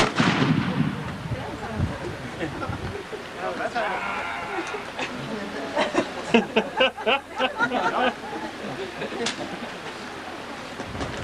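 A sharp rifle volley cracks out near the start at a historical firing demonstration at Fort Mackinac, Michigan, followed by a few scattered shots and crowd noise, with people talking and moving around outdoors.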